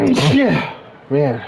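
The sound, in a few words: sneeze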